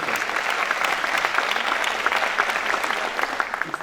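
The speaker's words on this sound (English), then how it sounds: "I request all the newly admitted members to give a big round of applause for your parents" Newly admitted members at the ICSI Eastern Region convocation applaud their parents, with steady, dense hall clapping that keeps an even level throughout.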